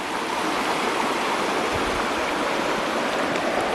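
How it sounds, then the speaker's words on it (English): Small river rapids in Pisgah National Forest rushing steadily, a continuous broadband wash of flowing water, close and fairly loud with no voices. "being by these little tiny rapids just make for a great sound"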